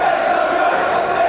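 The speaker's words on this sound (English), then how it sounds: "As you hear the crowd chanting along now with each wrestler." A large wrestling crowd at a British live show keeps up a loud, continuous chant that fills the arena as a dense wash of massed voices, with no breaks across the span.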